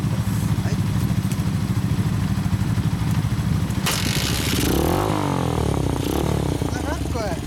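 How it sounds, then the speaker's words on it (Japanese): A customized Kawasaki Z400FX motorcycle engine idles loud and close with a steady rapid throb, then revs up sharply and falls back, while voices talk over the engine noise. "Z400HZ の音聞かせてもらおうかな"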